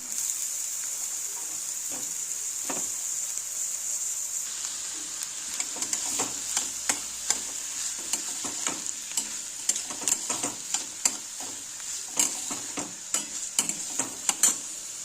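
Chopped capsicum fries in a pan with onions for Mumbai street-style masala pav, giving a steady hissing sizzle punctuated by frequent sharp spatula taps and stirring clicks close by.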